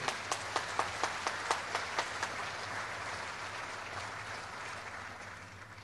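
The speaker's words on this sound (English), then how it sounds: "Let's give a big applause" A few sharp, distinct claps at a Social Business Day event in Bangladesh grow into a soft, steady round of audience applause. It is fairly faint and sits over a low hum.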